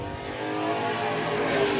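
Angelo Belcito's number 8 Nats Racing Engine race car sits on the grid at Seekonk, its engine droning and building in a steady rising roar amid other car noise, moderately loud.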